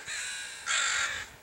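A crow gives two harsh, close caws in quick succession, the second louder and more drawn out, with no other sounds around them.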